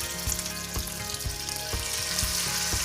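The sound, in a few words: test piece sizzling in hot frying oil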